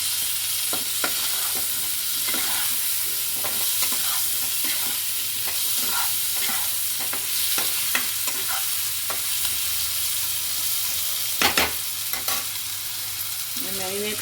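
Potatoes stirred and frying in oil for a Bengali home-made mutton curry, a steady sizzle with repeated scraping stirs of the spoon, close and continuous throughout.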